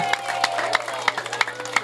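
Crowd at an outdoor political rally for council candidates in Kasiglahan Village, Montalban, Rizal, applauding and cheering in uneven bursts of claps, with background chatter and a steady hum running underneath.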